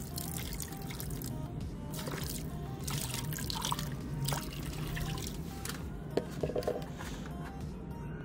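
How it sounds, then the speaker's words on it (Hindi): Plain water poured into a container during a home chemistry demonstration, a steady trickling and dripping that runs for about eight seconds at moderate level over a constant background hum, with a few sharper drips near the end. "अब ये बिल्कुल सादा पानी है, तो ये हम इसके अंदर ऐड करेंगे।"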